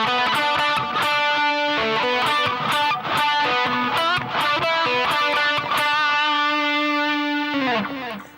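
A distorted electric guitar plays a lick in D Mixolydian in 7th position, with repeated picked notes and quick phrases, ending on a sustained bent note, loud and up close.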